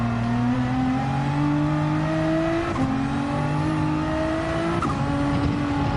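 A race car engine in Gran Turismo 7 screams loudly as it climbs through the revs on a late lap, with two quick gear shifts dropping the pitch before it rises again, and no talking.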